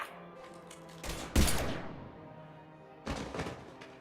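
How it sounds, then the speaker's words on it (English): Gunfire in the game Mass Effect 3: two loud, booming bursts of shots about two seconds apart, each with a rumbling decay, over a low, humming game background. "Now open fire!"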